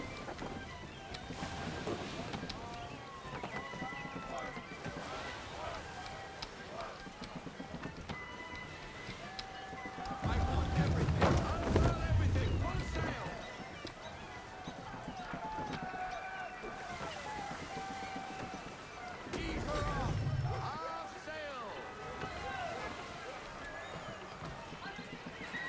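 A sailing ship moving across the water in Assassin's Creed III, with steady sloshing waves, creaking and wind that surge twice into deeper rushes, while a voice talks throughout.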